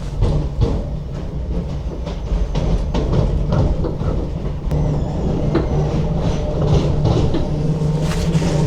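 Inside a Scottish commuter train running from Glasgow Central to Paisley Canal with its windows open, a steady low rumble and wind noise roll on, broken by occasional rail clicks and rattles, with no talking.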